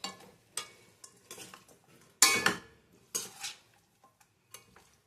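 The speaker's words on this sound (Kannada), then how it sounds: "ಈಗ ಸ್ವಲ್ಪ 2 ನಿಮಿಷ ಫ್ರೈ ಮಾಡ್ಕೊಬೇಕು" Metal spoon scraping and clanking in a pan while leftover idli is stirred in manchurian sauce with onion, giving intermittent knocks and scrapes over a quiet background.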